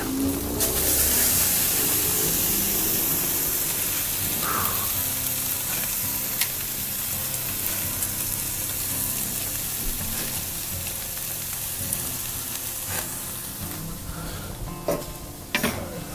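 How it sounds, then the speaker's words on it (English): Fat side of a jalapeño tri tip searing on a hot grill, a loud broad sizzle that slowly eases over time, with a few sharp pops and spits near the end and no talking. "We're gonna go fat side down, just long enough to sear that fat."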